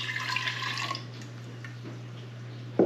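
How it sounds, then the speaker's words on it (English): A kombucha tea mixture is poured into a clean jar, giving a brief splashing trickle of liquid over a steady low hum, then a quieter drip and a small clink at the end. "I'm gonna pour this mixture right into my clean jar."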